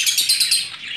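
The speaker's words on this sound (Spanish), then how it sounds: "están muy gritoncitos los agapornis." Lovebirds chirp in a rapid, shrill burst of overlapping tweets, close and fairly loud.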